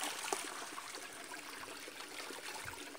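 A small natural waterfall flowing steadily, a soft, even rushing and trickling wash of water heard alone at low level.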